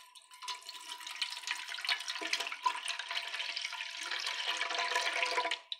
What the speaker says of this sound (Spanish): Y ahora vamos a echar el líquido